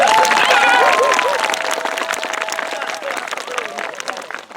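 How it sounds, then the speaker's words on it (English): An outdoor crowd of students and staff applauds at an elementary school tower ribbon cutting, with loud clapping that fades gradually while a voice talks over it. "give it a big round of applause"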